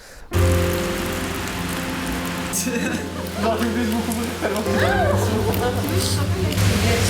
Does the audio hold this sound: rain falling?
yes